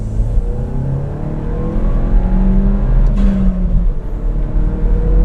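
A turbocharged all-wheel-drive Mini Paceman accelerates hard, its engine droning and climbing steadily in pitch, then briefly dropping at a gear shift before pulling upward again, loud and close from inside the car.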